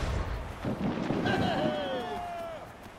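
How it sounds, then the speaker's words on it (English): Mortar strike explosion in the Assassin's Creed Freedom Cry naval game, a low booming blast and rumble beneath whistling, sweeping game effects, with a player talking throughout. "mortar strike."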